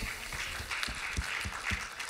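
Church congregation clapping during service announcements, a moderate round of applause from a seated crowd, steady and indoors with scattered individual claps standing out.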